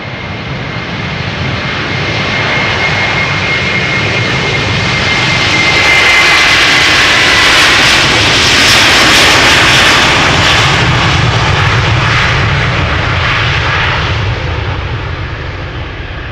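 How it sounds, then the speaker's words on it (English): A Delta Air Lines Airbus A330-300 bound for Boston departs Amsterdam Schiphol, its jet engines roaring loud and close as the broadband thunder swells mid-pass and slowly fades, with no voices present. "Delta Airlines flight 243 to Boston, Massachusetts, A330-300."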